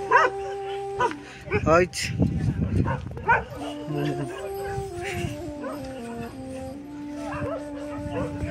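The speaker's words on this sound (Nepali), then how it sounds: "डग सेन्टरमा डगहरू टन्नै छ" Dogs at the Namche Bazaar dog centre bark in short bursts, close by, mixed with someone talking and other background chatter.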